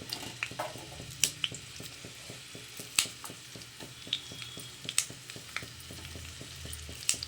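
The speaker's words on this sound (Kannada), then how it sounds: "ಈರುಳ್ಳಿ ಹಾಕೊಳ್ಳೋಣ ಮತ್ತು ಬೆಳ್ಳುಳ್ಳಿ ಹಸಿಮೆಣಸಿನ್ಕಾಯಿ" Onion, garlic and green chili fry in a pan, a soft steady sizzle broken by frequent light taps and scrapes of a spoon stirring, close and fairly quiet.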